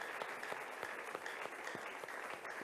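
A church congregation breaks into quiet, distant applause with steady clapping that lasts a couple of seconds after a call to acclaim the word of God.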